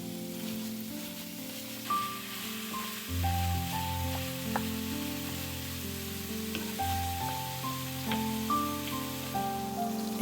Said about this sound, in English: Add 1 pound or 450 grams of ground beef. Break it up with a spatula and cook over medium-high heat,